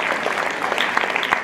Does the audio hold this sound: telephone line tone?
no